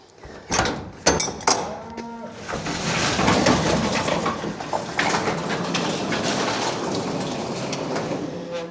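A few sharp knocks, then a cow moos, followed by a long, loud lowing that carries on steadily.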